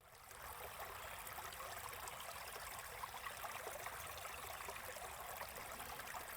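Fresh water drains steadily through a brackish tidal creek cut from a remnant swamp amid suburban sprawl, a continuous close trickling and babbling flow with no pauses.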